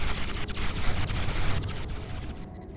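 Rapid bursts of gunfire from Nod units in a real-time strategy battle, dense overlapping shots crackling continuously at moderate level before thinning out near the end.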